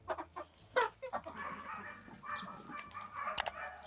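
Chickens with respiratory wheezing cluck nearby in short irregular bursts during treatment, with a softer background of hens murmuring and an occasional sharper squawk.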